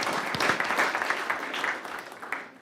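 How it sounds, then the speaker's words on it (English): A room at a school governing board meeting breaks into steady applause for its schools, many hands clapping together at close to mid distance throughout, with no clear speech on top. "let's give our schools a round of applause for"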